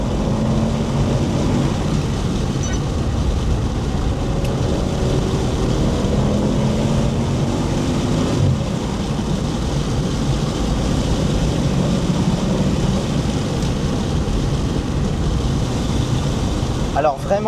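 An Audi RS6 C6 with its V10 bi-turbo engine pulls hard in third gear on an open road, a loud continuous roar heard from inside the cabin that stays heavy and steady throughout.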